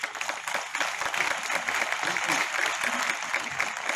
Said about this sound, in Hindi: ताली बजानी है तो दोनों हाथों से, दिल से, आत्मा से एकदम बिना शर्म के